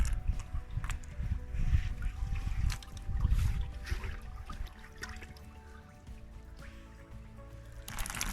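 Water splashes and trickles over a soapy canopy as it is rinsed clean, a steady wet wash with louder surges of flow, close and continuous throughout.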